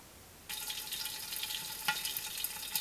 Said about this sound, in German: jetzt wird angebraten